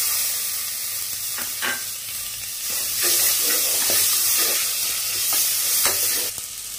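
Tomatoes sautéing with softened onions and green chillies in a pan give a steady close sizzle, with scraping stir strokes around the pan recurring every second or so.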